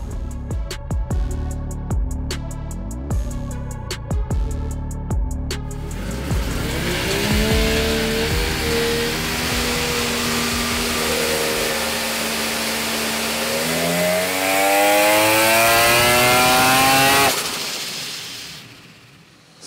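A Mazda 20B three-rotor street rotary engine roars on a dyno: a choppy idle with sharp pops gives way to a loud sustained pull, its pitch sweeping upward through a long wide-open run before abruptly cutting off.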